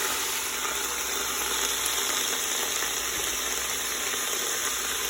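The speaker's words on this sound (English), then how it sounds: "Put my greens in because the oven is too hot." Collard greens and bacon sizzle loudly and continuously in a very hot pot, a dense, even frying hiss that holds steady for several seconds with no talking.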